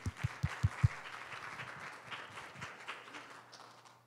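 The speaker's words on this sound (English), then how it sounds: "So give a round of applause as we welcome Elliot" An audience applauds to welcome a guest presenter at a housing data event. A few sharp low thumps come first, then a moderate crowd of clapping that carries on and slowly fades.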